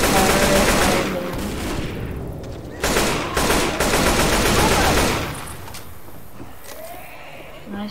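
Rifle gunfire in a video game rattles in loud, dense bursts: a long volley, a short pause near three seconds, then another sustained stretch before fading into quieter background.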